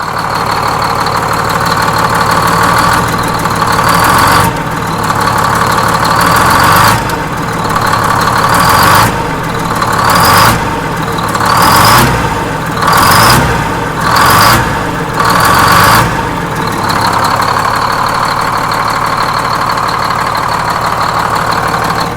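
A rebuilt Detroit Diesel 6-71 two-stroke engine runs loud and close during break-in, with a rough, throbbing idle broken by a series of rhythmic revving bursts in the middle before it settles back. No one speaks.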